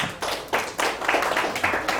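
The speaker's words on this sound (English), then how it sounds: "Give a clap to her." An audience at a religious retreat claps in a dense, steady burst of hands, loud and close, with no talking over it.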